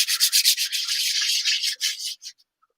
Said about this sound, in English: Hand sand cuts through the resin.